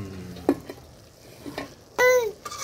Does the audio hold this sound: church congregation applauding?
no